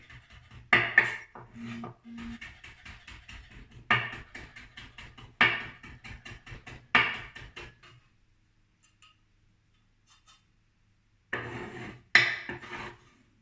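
A knife chops fresh coriander on a cutting board in quick bursts of crisp, close strokes, pausing between runs and then stopping briefly before a final short flurry.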